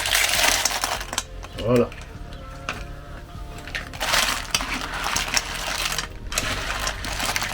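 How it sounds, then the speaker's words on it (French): Cockles clatter and rattle as they are tipped into a pan over a wood fire, with loud shell crunching and clinking and someone speaking briefly. "À ce moment-là, on va venir ajouter les coques."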